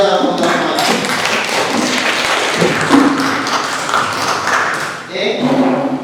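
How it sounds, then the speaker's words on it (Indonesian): Group applause in a classroom, dense continuous clapping from many students, loud and close, with a brief dip near the end before it swells again. "Sekali lagi tepuk tangan yang luar biasa untuk semuanya"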